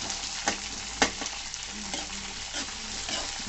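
Green chilies and chopped onion frying in a pan for upma give a loud, steady sizzle, punctuated by a couple of sharp stirring scrapes near the start.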